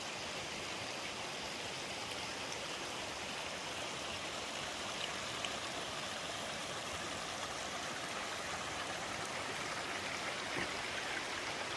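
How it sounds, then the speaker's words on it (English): Steady rushing waterfall noise in the Chicago Basin backcountry, Colorado, a constant broadband roar with no breaks, moderately distant and even throughout. "It's a cool waterfall that looks like it's coming out of the rock."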